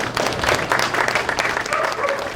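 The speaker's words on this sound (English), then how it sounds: "I give you a clap." Brief applause from a small gathering at a dog-training event, a few dozen hands clapping unevenly and fairly close for a couple of seconds, with faint background murmur.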